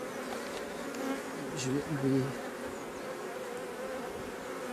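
Honey bees hum in a dense, steady buzz around an opened hive while a beekeeper sets a super in place, with brief quiet speech and handling noises partway through.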